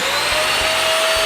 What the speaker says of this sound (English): You can use your wife's vacuum cleaner.